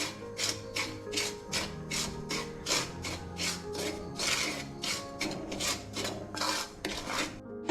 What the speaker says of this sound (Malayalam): ഇനി റവ നമുക്ക് വറുത്തെടുക്കാം.